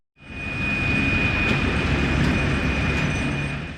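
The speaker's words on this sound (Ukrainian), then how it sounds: "Машиніст тепловоза Артур Кузьмін щоденно переміщує до 10 потягів із металом." A diesel locomotive hauls a freight train loaded with metal on a steelworks railway in Zaporizhzhia. It makes a loud, steady rolling rumble for nearly four seconds, with a thin high wheel squeal running through it and no talk.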